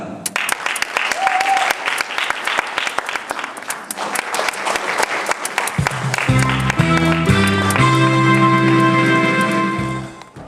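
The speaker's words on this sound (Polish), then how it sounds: "No właśnie, może jeszcze odrobina brawa" An audience claps steadily at a regional children's singing contest, Rozśpiewane Nutki 2010, the dense applause carrying on for several seconds before music begins underneath and the clapping fades out at the end.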